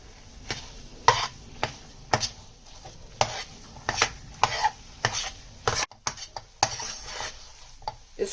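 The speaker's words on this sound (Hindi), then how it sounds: "घी शामिल करने के बाद दोबारा इसको मिक्स करते रहना है।" A coconut barfi mixture with ghee is stirred in a pan, with a utensil scraping and knocking the pan in repeated irregular strokes roughly every second, close and moderately loud.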